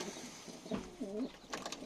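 Adana pigeons coo in a few soft, rounded calls close by, with short gaps between them against a quiet room background.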